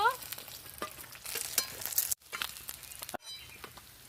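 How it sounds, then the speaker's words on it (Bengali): Fried fish being stirred and lifted from darkened oil in a pan: close crackling sizzle with scraping and clatter, interrupted by two abrupt cuts. "মাছ ভাজা হয়ে গেছে, তুলে নেব।"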